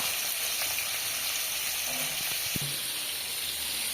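Onion and garlic frying in oil in a home kitchen pan, a steady soft sizzle with a few faint clicks and light stirring knocks, close and even throughout.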